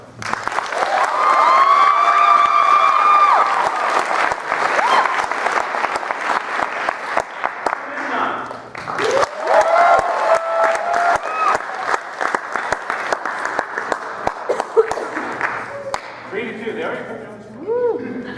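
An improv show audience claps and cheers to vote on a scene, mixing dense applause with sharp whoops and some talking, rising and falling in waves over a long stretch.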